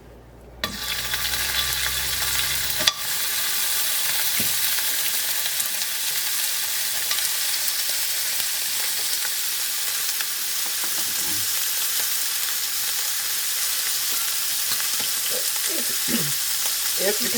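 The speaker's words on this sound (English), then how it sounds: "going to brown the meat" Goat meat browning in a frying pan, a loud, steady, close sizzle that starts abruptly and holds for many seconds, with a few faint clinks and shifts underneath and no talking.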